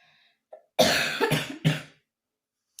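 A woman coughs three times in quick succession, close and fairly loud, each harsh burst trailing off, after a brief soft throat sound and otherwise quiet surroundings.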